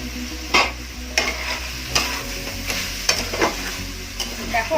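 Young banana and prawns frying in a pan, steady sizzle with regular scraping stirs from a spatula roughly every half second to second, close and clear, with no talking.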